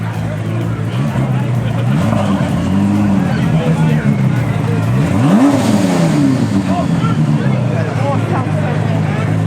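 A race car at the Pikes Peak International Hill Climb revs loudly and close, its engine note sweeping up and down repeatedly over a constant rumbling drone.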